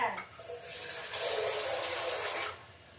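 Tap water runs steadily into a kitchen sink while tomatoes are washed, a broad hissing splash that swells and holds for about two seconds before cutting off, close and fairly loud with no talk over it.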